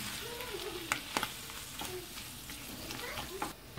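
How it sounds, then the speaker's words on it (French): Seasoned mushrooms simmering and sizzling in a pan, a continuous soft frying hiss broken by a few light utensil taps and scrapes. "Et on les laisse mijoter quelques minutes, environ 3 minutes à peu près."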